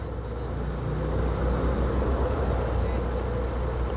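Steady rumble of heavy car traffic at a city intersection in Natal at lunchtime, a continuous broad wash of engine and road noise heard from close by.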